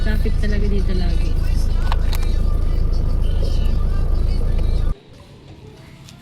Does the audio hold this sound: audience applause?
no